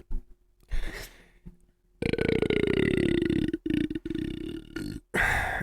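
A long, loud, croaking burp with a falling pitch runs for about three seconds, then breaks into shorter guttural belches with brief gaps between them, close up and loud, with no talking over it.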